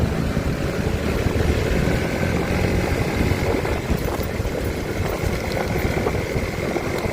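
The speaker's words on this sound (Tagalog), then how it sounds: "ang dami nating kasabay na motor" Motorcycle engines hum and drone steadily on a rough, patched road near a stoplight, a continuous mix of nearby idling and passing engines with no voices.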